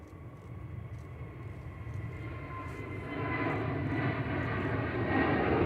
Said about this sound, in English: Off to Kuwait City, A320 Neo